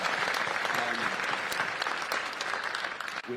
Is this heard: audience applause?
yes